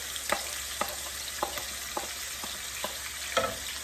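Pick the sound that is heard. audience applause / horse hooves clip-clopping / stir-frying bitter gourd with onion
stir-frying bitter gourd with onion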